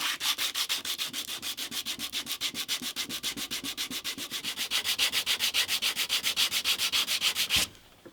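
An acoustic guitar fretboard sanded by hand with sandpaper, producing fast, even, rhythmic back-and-forth rasping strokes, loud and close, that stop abruptly near the end.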